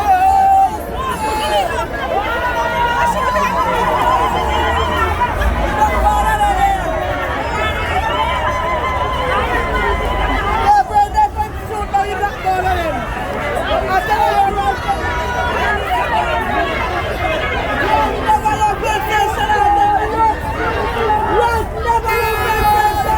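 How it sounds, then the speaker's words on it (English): A protest crowd outside the People's Parliament in Kingstown stirs as a police SSU truck arrives, a dense babble of shouting and chatter with car horns tooting now and then, and a nearby voice speaking over the noise. "So we see the SSU is here, a truck of SSU from the police, and the crowd is responding."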